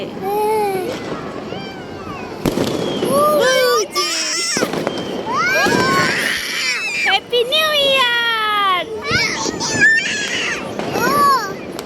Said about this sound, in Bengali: বাজি বাজি বাজি ফুটাচ্ছে